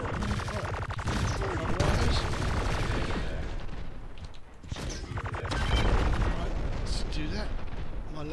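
Laser gun fire in the video game Armed to the Gears, a dense stream of crackling, buzzing blasts with heavy low booms, nearly continuous with one brief dip midway.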